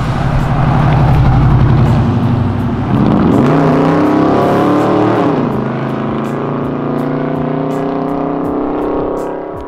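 A sports car engine roars on Avenida Europa, a loud close rumble with revving and downshifting as the car passes, no voices over it.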